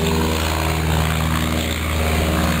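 Low-flying propeller airplane passing over farmland with corn fields, a steady loud droning engine hum with harmonic buzz lasting throughout, no voices.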